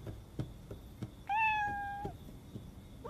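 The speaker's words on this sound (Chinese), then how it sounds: "野猫乱跑" Cat meowing at night in an ancient palace setting, one clear drawn-out meow standing out over faint knocks and soft background noise, fairly close.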